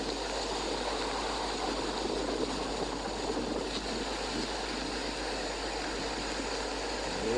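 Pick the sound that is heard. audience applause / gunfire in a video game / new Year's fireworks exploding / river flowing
river flowing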